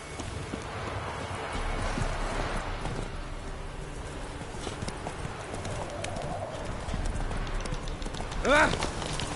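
Horse hooves clip-clop steadily through a video game scene, a moderate rhythmic patter under ambient game sound and music, with a brief bird-like call near the end.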